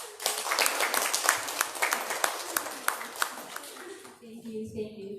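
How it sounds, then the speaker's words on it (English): An audience at an indoor event claps warmly for several seconds in a dense, steady patter of hands, then the applause fades out as a voice begins to speak. "Let's give her a warm round of applause."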